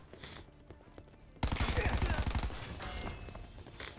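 Gunfire in Black Ops 4 play: a quiet lead-in with faint voices, then a sudden loud burst of rapid automatic fire with dense repeating shots that trails into continued shooting and background game noise.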